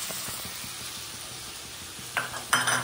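Poppy seed paste going into ridge gourd frying in a pan: a steady sizzle runs throughout, with soft stirring scrapes and a couple of louder utensil clatters near the end.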